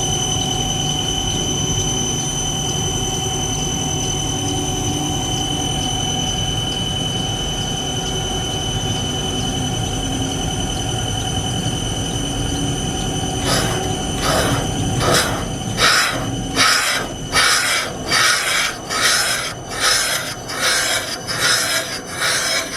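A valve seat cutter grinds an exhaust valve seat in the cylinder head of a 2009 Tahoe 6.2 LS engine. A steady tonal whine with scraping runs under a background hum, then gives way to rhythmic rasping strokes toward the end.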